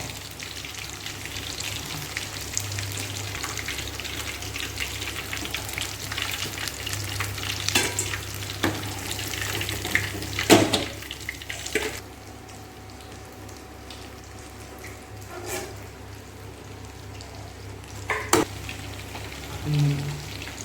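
Chicken 65 deep frying in hot oil, a steady broadband sizzle throughout with a few sharp clinks of a utensil; the frying quiets somewhat partway through, no talking.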